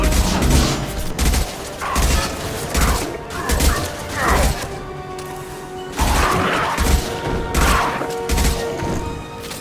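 Rapid gunfire bursts and heavy explosions in the Mass Effect 2 video game, loud repeated booms and crackling shots in irregular clusters with brief lulls, no talking.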